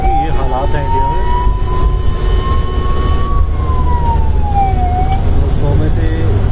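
An ICU ambulance's hooter wails from inside the vehicle, one long tone slowly rising and then falling. It sits over loud, constant engine and road rumble.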